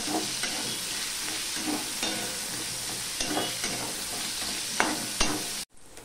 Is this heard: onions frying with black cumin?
yes